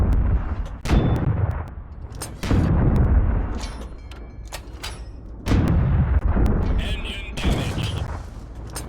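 Light tank firing both its main and secondary guns in the Steel Aces tank video game, several sharp booming shots in quick succession, each followed by a rumbling decay, with a brief mechanical clank near the end.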